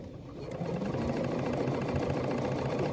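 A Bernina sewing machine stitches along a quilt seam, a steady rapid mechanical whirr with fast rhythmic needle ticking that starts softly and quickly reaches full, even speed, close by.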